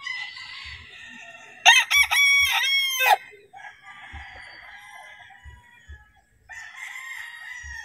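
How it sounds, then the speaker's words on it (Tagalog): Gamefowl roosters on a game farm in Rizal crow loudly up close, one long crow dominating over a background of other roosters crowing and clucking more faintly, with scattered low thumps. "Maganda ng mga manok ni Boss Del, mga idol."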